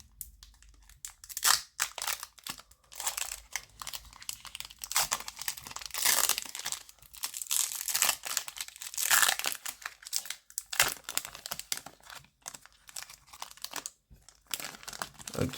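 Plastic foil wrapper of a Pokémon booster pack from an elite trainer box being torn open and crinkled close by, with irregular bursts of crackling and rustling, fairly quiet and without talk.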